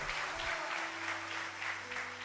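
A church congregation claps in a soft, regular rhythm during a worship service, faint and somewhat distant, over a low sustained musical hum.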